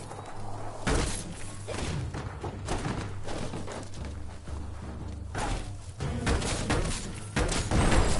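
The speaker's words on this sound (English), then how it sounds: "Shoot it and watch it blow." An explosive barrel blows up at an outpost gate in a video game, giving heavy thuds and crashing blasts over a steady game soundscape, with a loud burst near the end.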